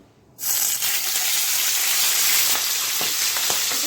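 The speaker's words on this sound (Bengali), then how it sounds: "তেলটা গরম হয়েছে এখন মাছটা ভাজা নিব" Pomfret fish hitting hot mustard oil in a pan, bursting into a loud, continuous close sizzle that holds steady with a few faint utensil ticks.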